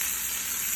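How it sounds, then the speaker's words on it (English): Shrimp heating up in a pan give a steady, close, hissing sizzle of frying that holds constant without pause and with no talk. "As you see over here, the shrimp is starting to heat up."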